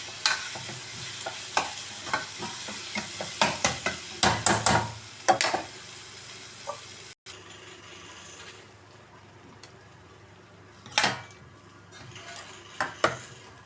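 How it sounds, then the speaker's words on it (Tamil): Cut eggs sauté in a sizzling masala in a pan, with a constant fry under repeated spoon scrapes and knocks against the metal, loud and close, stirring in bursts. "நம்ம கட் பண்ணி வச்சுக்க முட்டையை எடுத்து போட்டு வதக்கிக்கலாம்"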